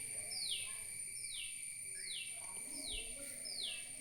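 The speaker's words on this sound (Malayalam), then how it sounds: "കിളിക്കുഞ്ഞിൻ്റെ ഒച്ച നോക്കുന്ന സ്ഥലത്തോട്ട് നമുക്ക് നോക്കാം" A bird chick calls outdoors in a spot near a thorny cactus plant, giving about five repeated high, descending chirps spaced evenly over a steady background whine, fairly faint and close.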